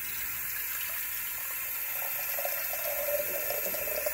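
Tap water runs steadily into a container for a Kratky-method watermelon hydroponic setup, a continuous close splashing hiss with no talking.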